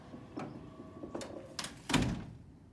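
An old garage door opener, worked by a key fob, runs the door with a series of mechanical clicks and clacks ending in a heavier thunk, all fairly close and with no talking.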